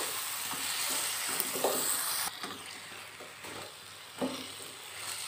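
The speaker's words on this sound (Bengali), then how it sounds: "এবার এটাকে আমি একটু 5 মিনিটের মতন একটু ভালো করে কষিয়ে নেব" A vegetarian drumstick curry sautés in a pan, producing a continuous soft sizzle that dips partway through, with a few light scrapes of a spoon and no talk.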